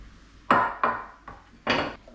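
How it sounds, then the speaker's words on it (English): Spoon or spatula knocking against a pot while stirring baby carrots and chicken thighs, four distinct clunks spaced about a second apart, close and fairly loud with no talking. "And you want to stir everything together."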